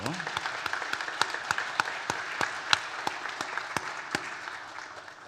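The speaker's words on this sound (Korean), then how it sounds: "우리 격려의 박수 한번 보내주십시오" A church congregation claps in encouragement after a praise service, the clapping sparse and rhythmic in roughly even beats, fairly soft and slowly fading.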